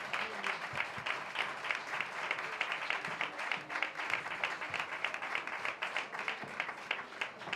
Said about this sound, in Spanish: Fuerte aplauso para los 3.